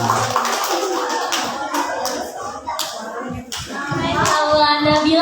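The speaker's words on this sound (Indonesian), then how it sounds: "Tepuk tangan untuk Nabila Az-Zahra" An audience at a primary-school Qur'an memorization event claps for a young student, a bright, uneven burst of hand claps that carries on throughout, with faint voices mixed in.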